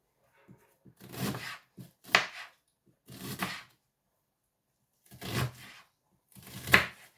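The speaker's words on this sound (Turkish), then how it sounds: "Soğanlarımı şöyle kayrak kayrak keseceğim." A knife slices onions on a cutting board in a home kitchen, giving five short bursts of crisp cutting and crunching separated by quiet pauses, close and clear with no talk.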